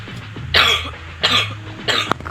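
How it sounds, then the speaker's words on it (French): Three harsh coughs from a sick man close to the mic, evenly spaced, with a low steady hum underneath and no talking. "si vous m'entendez tousser, je suis vraiment désolé là, je suis malade."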